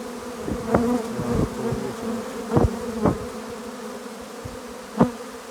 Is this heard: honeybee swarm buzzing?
yes